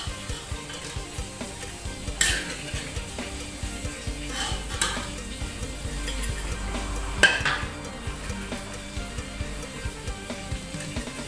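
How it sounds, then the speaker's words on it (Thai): Fish frying in hot oil, a steady soft sizzle running throughout, with a few sharp clinks of utensils against a pan standing out above the bubbling, fairly quiet and without talk. "เดี๋ยวเชฟลงมาทอดปลาก่อน"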